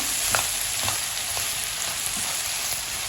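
Chicken noodle ingredients sizzle steadily in a frying pan, with a few soft scrapes and clicks from stirring scattered over the constant fry.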